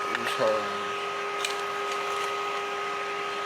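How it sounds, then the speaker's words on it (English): A small Arctic Air portable air conditioner runs with a steady, close mechanical hum and faint whine, a constant drone held throughout while a person talks over it. "you may hear that the sound. It's this, the Arctic Air."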